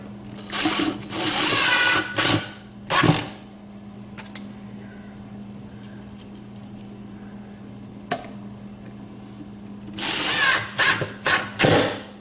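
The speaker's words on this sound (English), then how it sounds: "We're going to screw them in there, and then this speaker will be done" A power screwdriver drives sheetrock screws into a wooden speaker box, several loud whirring bursts at the start and again near the end, with a quieter stretch in between.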